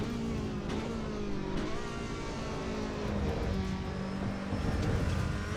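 A race car in the Assetto Corsa Evo racing game accelerating through the gears, its engine note rising in pitch, dropping at each upshift and climbing again, loud and continuous with no talk.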